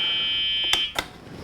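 A Club Car DS golf cart with a LiFePO4 battery conversion sounds a steady, high electronic reverse buzzer, which cuts off abruptly. Two sharp clicks follow, one right at the cutoff and one just after.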